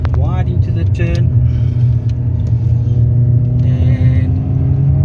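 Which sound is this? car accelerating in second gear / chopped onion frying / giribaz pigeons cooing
car accelerating in second gear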